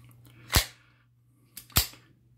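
A handgun slide is racked in two sharp metallic clacks about a second apart, close and loud against a quiet background hum.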